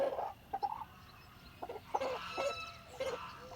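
A Barbezieux rooster clucks softly in short, spaced bursts, close by and fairly quiet, with brief pauses between calls.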